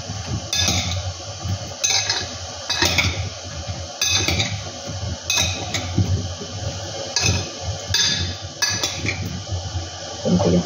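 A bowl of chicken being tossed with lemon, with repeated clinks and scrapes of utensils against the bowl in an uneven rhythm, close and clear against a steady background hum.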